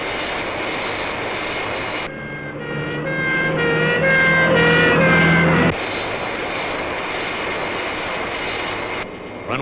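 The Fireflash airliner roars on approach to the runway with a loud, steady jet engine whine, briefly giving way to a tonal vehicle and siren passage before the jet roar returns.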